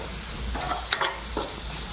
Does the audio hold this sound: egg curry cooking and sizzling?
yes